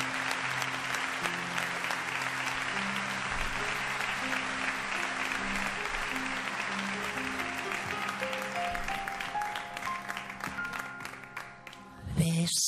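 An audience gives a long, steady round of applause before a bolero performance. Dense clapping holds for about twelve seconds while soft sustained musical tones rise beneath it, ending in a brief louder burst.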